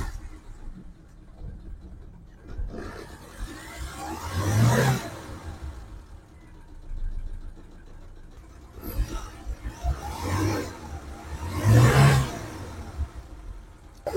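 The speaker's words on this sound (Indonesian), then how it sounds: "sekarang kita tinggal starter, kita dengerin suara dari langsamnya dan RPM tinggi" A 2006 Suzuki Carry 1.0 pickup engine idles, then revs up twice to high RPM in two rising surges. Each surge falls back to a low, even idle. Other noise sits faintly in the background.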